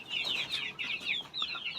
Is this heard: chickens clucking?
yes